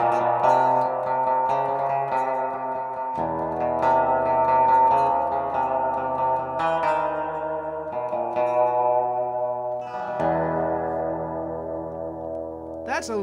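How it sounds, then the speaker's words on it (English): Electric guitar played through an amplifier with reverb and dwell turned all the way up, sustained chords ringing out in long washes that blend one into the next. "that's a lot of reverb, a lot more than most amplifiers"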